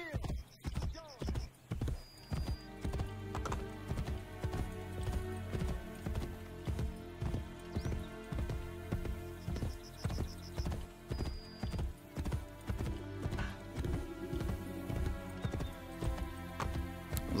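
Rhythmic hoofbeats of a galloping horse in Assassin's Creed Brotherhood pound steadily throughout, with a brief whinny and faint background music, sounding like game audio.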